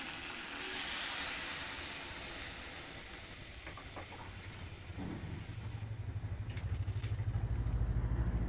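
Fish frying with potatoes in a pan, steady loud hiss and sizzle throughout with a burst of steam early on, then a pulsing bubbling sizzle near the end; no voices.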